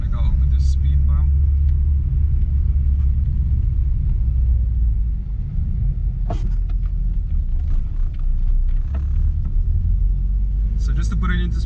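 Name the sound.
Mk1 Golf with cut springs driving over rough road and speed bump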